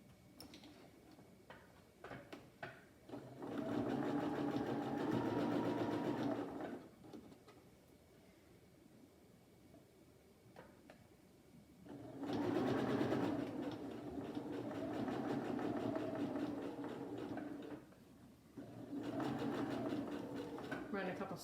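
A sewing machine stitching a rag-edge quilt runs in three sustained bursts of rapid rhythmic chatter separated by quiet pauses, loud and close.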